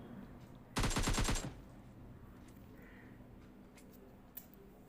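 A short burst of rapid automatic fire from an M416 rifle in PUBG Mobile Lite, about half a second of tightly spaced loud shots, followed by quieter game ambience and a faint click.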